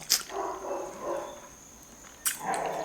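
Dogs bark faintly in the distance, a few muffled yaps in a short cluster, then another bark after a pause, over quiet background hiss.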